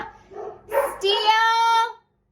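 House dogs bark and howl at a neighbor working in his yard, one close, loud, drawn-out bark rising into a sustained howl that cuts off abruptly.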